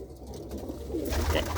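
Pigeons coo softly and continuously, a hen sitting on her eggs with the cock beside her, the low murmuring calls steady and close with no talk over them.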